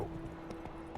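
Roach, a horse in the video game The Witcher 3, trots with quick, rhythmic hoof clip-clops over a low background hum in a brief burst.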